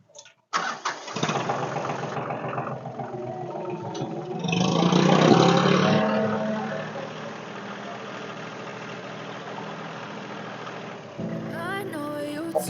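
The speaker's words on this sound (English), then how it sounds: "I'm just going to use the tractor to hopefully yank her off." A tractor engine cranks, catches and surges loudly, then settles into a steady, close idle that runs on alone.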